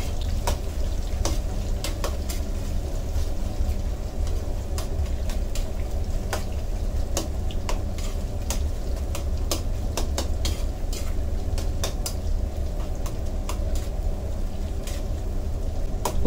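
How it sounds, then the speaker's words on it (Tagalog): Beef strips frying in hot oil for beef broccoli while being stirred, a steady close sizzle with scraping and clinking of a utensil against the pan throughout. "Dito makikita natin ang pagre-react ng ating mantika dahil na mainit na ito. And then haluin natin agad para maghiwa-hiwalay ito."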